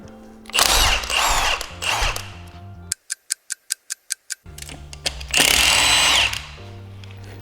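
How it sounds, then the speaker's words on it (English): A power tool loosens torque converter bolts on a Nissan Titan: loud whirring bursts, then a quick run of about eight sharp ratcheting clicks, followed by more grinding tool bursts close by. "So I'm just gonna loosen all the bolts however"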